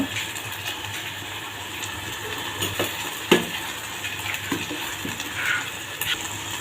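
A chickpea curry is stirred in a pan as it fries with turmeric, coriander powder and garam masala, giving a steady low sizzle with occasional spoon scrapes and knocks against the pan, close up, with no talking.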